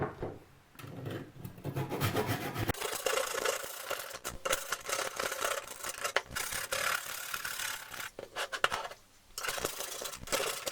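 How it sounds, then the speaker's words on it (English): Hand saw cutting through the incorrectly wedged head of a vintage Brade's Criterion No.2 wood axe, steady back-and-forth rasping strokes, close and continuous with brief pauses, no talking. "If I just saw off this incorrectly wedged head here"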